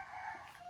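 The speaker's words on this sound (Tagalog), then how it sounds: "Inuba, manok." A rooster's crow, brief and fairly close, lasting under a second with no voices over it.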